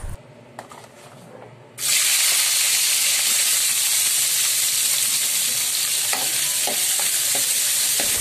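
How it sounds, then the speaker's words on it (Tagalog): Baguio beans drop into hot oil for frying, a sudden loud sizzle erupting after a quiet start and then holding as a dense, close, steady hiss with occasional crackles and stirring sounds. "siyempre susunod natin dyan ang ating Baguio beans, ang ating ipiprito mga idol"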